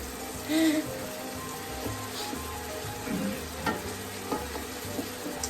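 Onions softening in a hot, smoking pan for a Sunday ragu, a steady low sizzle with occasional stirring scrapes and soft clinks, close by, with no talking.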